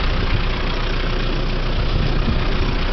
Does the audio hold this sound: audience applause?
no